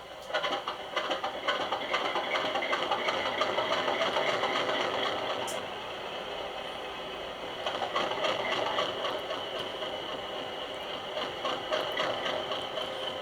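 A model Class 50 locomotive sound unit plays a diesel engine start-up, a faint, steady mechanical rumble and chug that rises, eases briefly midway, then picks up again, heard alone at low volume.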